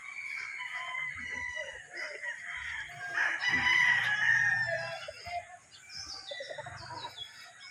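Chicks and chickens at a straight breed gamefowl farm, a rooster crowing mid-distance over steady clucking and peeping, with faint talk in the background.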